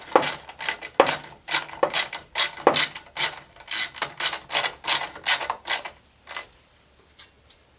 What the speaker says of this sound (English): we'll go ahead and just kind of snug them up just a little bit